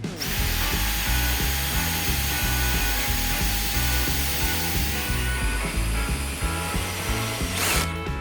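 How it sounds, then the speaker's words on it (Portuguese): Power drill driving screws into wood while a bench is assembled from an old bed headboard and scrap lumber, a steady pulsing motor whine in repeated bursts, close and loud, ending with a brief higher whir. "E aí é só furar e parafusar."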